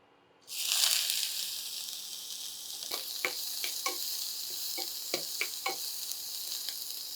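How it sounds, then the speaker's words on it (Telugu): Onions hitting hot olive oil in a pan burst into a loud, steady sizzle that holds throughout, with a few sharp ticks and clinks of stirring scattered across the later seconds. "ఆయిల్ హీట్ ఎక్కగానే ఆనియన్స్ వేసుకోవాలి"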